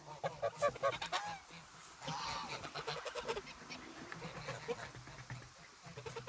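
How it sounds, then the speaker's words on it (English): Pomeranian geese honk repeatedly in a farm pen, a loose cluster of nasal calls from several birds at close to moderate distance, with quieter background chatter between the bursts. "Oh, Pomeranian geese,"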